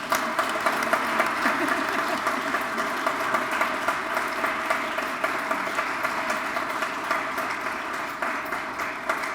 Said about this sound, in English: let's give a big round of applause for Linda Austin